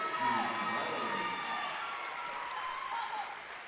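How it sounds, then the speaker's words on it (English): A crowd in a gym applauds players at a West Virginia girls basketball game between Hurricane Redskins and Cabell Midland Knights. The steady, moderate clapping carries under a commentator's talk. "both Sophie Kelly and Delaney Berger get a great round of applause"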